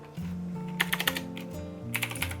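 Fingers type on a computer keyboard during CAD drafting work, with a short cluster of crisp, close keystrokes, a brief pause, then another quick burst of clicks.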